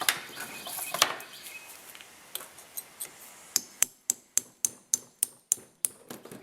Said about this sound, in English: A little punch and a hammer.